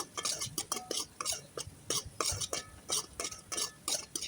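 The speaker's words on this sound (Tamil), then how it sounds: "இப்போ நம்ம இஞ்சி பூண்டையும் நல்லா கோல்டன் ப்ரௌன் கலர் வர அளவுக்கு வறுத்து எடுத்துக்கலாம்" Ginger and garlic are roasted in a pan for a greens chutney, stirred in quick, rhythmic scrapes of a spoon against the pan, with faint sizzling between strokes.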